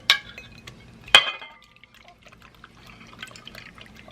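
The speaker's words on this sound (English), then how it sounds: "You're just going to pour your jello." Jello is poured into a glass dish in a kitchen: two sharp glassy clinks, then a soft liquid pour and faint drips, close and alone.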